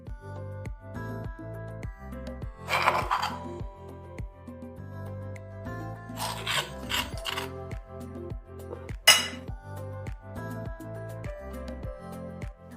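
Crushed garlic and green chilli scraped and transferred into a vessel, with sparse clinks and taps of utensils against the container, close and intermittent over a faint steady musical background, no talk.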